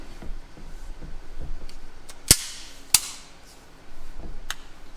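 Two sharp, loud pistol shots from a Springfield Armory Prodigy 4.25-inch firing 124-grain rounds ring out about half a second apart outdoors at close range, with quieter clicks and handling noise around them.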